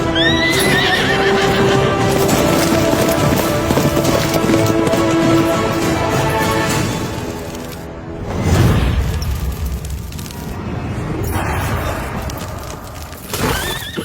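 A horse whinnies loudly and repeatedly in a dramatic film scene, its neighs layered over stamping, clip-clopping hooves and a dull boom midway, all up close and with no speech.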